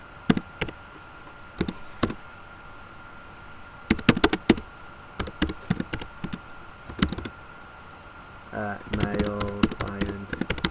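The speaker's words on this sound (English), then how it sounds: "I type in CD client." Computer keyboard typing, clusters of sharp close key clicks with short pauses between bursts and a faster run near the end, over a faint background hum.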